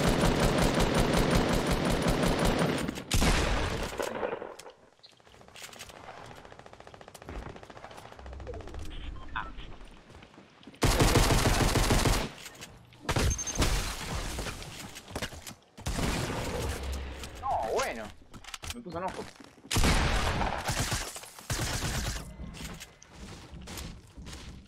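Bursts of rapid automatic gunfire alternate with single sharp shots and quieter gaps, a Fortnite firefight with brief muffled voices in between.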